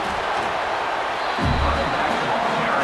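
Stadium crowd at a college football video game, Clemson at NC State, keeps up a steady loud roar throughout, swelling with a deeper surge of cheering midway.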